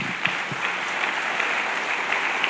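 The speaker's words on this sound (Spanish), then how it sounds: "Del otro fuerte aplauso al Señor" A church congregation applauds in a continuous wash of many hands clapping, moderately loud and steady, with a few sharper claps standing out.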